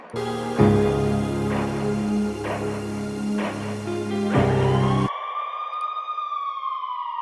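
A loud police siren wails over a low droning backdrop, then the bed cuts out and the siren sweeps down alone, fading as it goes.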